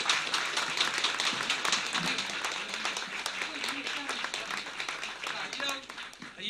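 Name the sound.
audience applause in a hall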